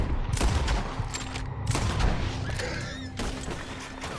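Gunfire during a tense hunt in Red Dead Redemption 2, a rapid burst of loud shots and booms in the first couple of seconds, then further scattered shots fading under shouting and background noise.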